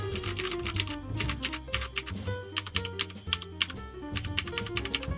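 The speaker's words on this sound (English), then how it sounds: "You hear it move a little bit, and then you hear it bottom out." Fast, steady typing on a Cooler Master CMStorm Quickfire Rapid mechanical keyboard, keys struck hard so they bottom out with a deep clatter. The keystrokes come close and continuous, with no talking.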